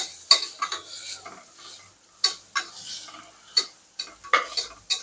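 Asafoetida, cumin and onion are sautéed in a pan, a metal spoon scraping and clinking against it in uneven, separate strokes, close and fairly loud, with quiet gaps between.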